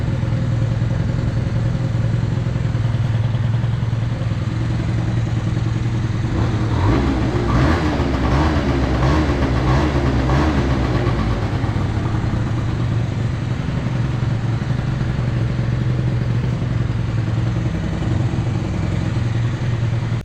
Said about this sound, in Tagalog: Tahimik rin ang makina nito.